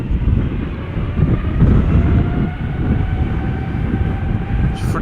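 A KLM Boeing 777 departs Schiphol for Nairobi, its engines a steady, loud broadband roar that rumbles continuously with faint tonal whine above, no voices present.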